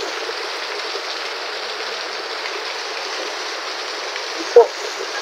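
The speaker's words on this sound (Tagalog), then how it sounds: "Dito kasi klase ng ulan, nakakapag-alala kaya Nanay Marita doon." Heavy rain pours steadily during a flood, a dense continuous hiss of falling water close by, with a brief faint knock near the end.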